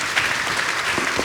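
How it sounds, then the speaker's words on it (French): A conference audience at Futurapolis Santé 2022 claps in a brief, dense burst of applause at fairly close range. "On vous applaudit."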